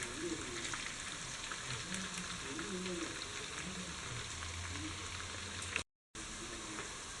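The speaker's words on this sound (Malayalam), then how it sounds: "ഇത് മറിച്ചിട്ട് രണ്ട് സൈഡും നന്നായിട്ട് ഫ്രൈ ചെയ്തെടുക്കുക." Fish pieces for Kerala fish pickle fry in hot oil with a steady, even sizzling hiss and faint crackles, briefly cutting out near the end.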